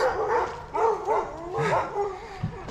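Several dogs bark and yip in rapid, overlapping bursts near a cemetery in Smithfield, Rhode Island, fairly close and loud for a few seconds with no talk over them.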